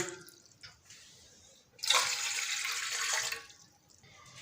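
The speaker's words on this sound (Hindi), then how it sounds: "यहाँ पे मैंने एक बर्तन ले लिया, इसके अंदर मैं 2 कप जो है ये पानी डाल दूँगा।" Two cups of water pour from a cup into a cooking pot at the start of making sugar syrup, a close splashing rush of about a second and a half, preceded and followed by small drips and clinks.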